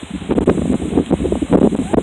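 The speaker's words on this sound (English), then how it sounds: "sorry about the wind." Heavy wind gusting across the microphone beside the Cass River while fishing, a loud continuous buffeting roar with rustling surges and no clear speech.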